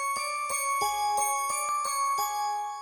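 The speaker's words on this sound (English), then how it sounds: "the first sound we got is this sound out of Expand. It's called Light Bells." Light Bells synth patch from the Expand plugin plays a looping, bell-like melody of bright, sustained tones with clear rhythmic note strikes every half second, a soft low pulse underneath, alone and fairly loud.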